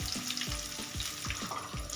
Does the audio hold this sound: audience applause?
no